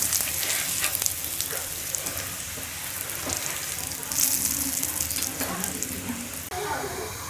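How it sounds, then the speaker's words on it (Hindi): Spinach paratha frying on a pan, a steady, fairly loud sizzle throughout with occasional brief clatters, close by and without talk. "इसको दूसरी साइड से भी अच्छी तरह से पका लें पराठे को।"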